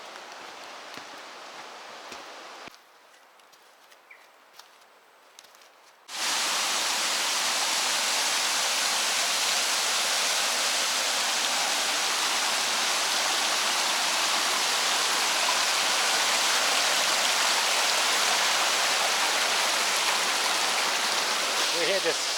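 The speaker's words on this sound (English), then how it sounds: "Water flowing off these high mountains." Mountain stream swollen after a 48-hour heavy downpour, rushing loudly off high mountains near the Young River, a steady broadband roar that starts abruptly after a few quieter seconds and holds constant.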